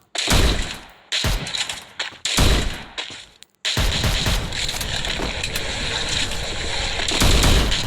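Video game gunfire from a Winchester and other guns crackles in loud bursts with short silent gaps, then a sustained roaring barrage of shots.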